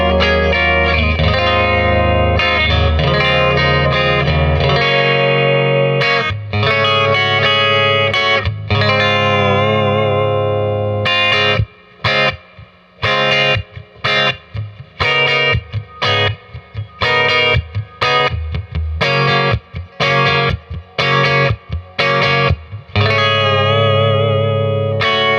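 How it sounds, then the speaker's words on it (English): A Fender Jazzmaster electric guitar on its bridge pickup plays through heavy effects, chorus, distortion, reverb and echo, loud and continuous at first, then breaking into choppy staccato stabs and bursts with short gaps before resuming. "we're starting off with the bridge pickup now."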